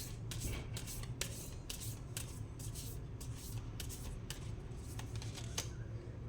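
Tarot cards are shuffled and drawn by hand, a fast run of soft riffling and rubbing with crisp flicks repeating close to the listener over a constant low hum.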